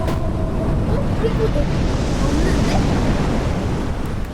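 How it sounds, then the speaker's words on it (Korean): A giant, tsunami-sized wave crashes through a Roblox wave pool game, giving a loud, steady roar of surging water that fills the whole stretch without letup. "우리 거대 파도가 온다"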